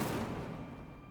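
The Incendio fire spell cast in Hogwarts Legacy, a short whooshing, roaring burst of flame that starts loud and fades over about a second.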